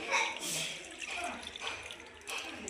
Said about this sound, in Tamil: இப்போ அந்த எண்ணெயவே இதில் நான் ஊற்றுறேன்